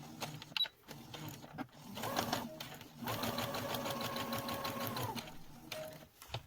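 A sewing machine stitches a fabric face mask 1 cm from the edge, running in short bursts and then a steady sustained whir, close and fairly quiet, with no talk over it.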